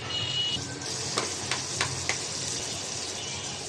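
Garlic paste added to a pan of fried onions for a Bangladeshi beef and potato curry, a steady hiss of frying with a few soft clinks and scrapes of a spoon stirring partway through.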